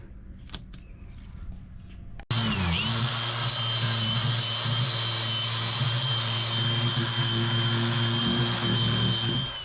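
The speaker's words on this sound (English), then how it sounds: "Gonna take our grinder and grind off the edges." An angle grinder starts after a brief quiet moment and then runs loud and steady, grinding off the hardened epoxy edges of a speaker hole repair on a boat.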